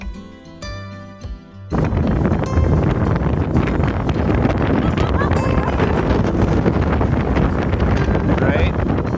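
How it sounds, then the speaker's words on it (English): Loud, steady wind buffeting and rushing water from a boat moving up the Johnson River in Alaska, after a brief quieter opening with faint tones. "That starts by riding this boat up the Johnson River."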